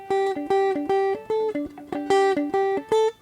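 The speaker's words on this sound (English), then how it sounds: "So that's a quite simple guitar line." A clean electric guitar plays a simple repeating melodic line of plucked notes, steady rhythm, close and clear with no voices.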